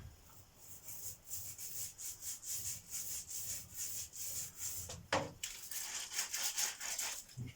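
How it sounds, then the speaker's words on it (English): Sponge roller applying gel coat to a kayak hull, a soft repetitive rolling rasp in steady back-and-forth strokes, quiet and close, with one brief knock partway through. "Now for this we're going to use a simple sponge roller and the gel coat mix in here."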